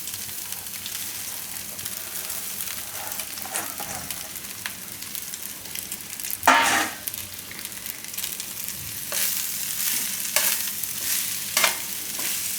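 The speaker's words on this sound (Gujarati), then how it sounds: "તો હવે આપણે આમાં ભાત મિક્સ કરી દઈશું" Rice being stirred into thecha masala in a pan over a low gas flame, a steady soft sizzle with scraping spoon strokes and a few louder stirring bursts, close and with no talking.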